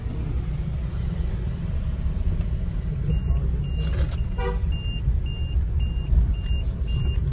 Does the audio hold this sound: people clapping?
no